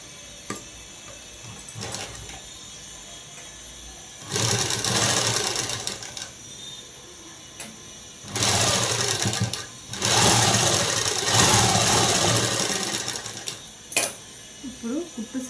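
A sewing machine stitches a collar-neck blouse in several loud bursts of rapid mechanical whirring, separated by quieter pauses with faint handling noises and brief talk.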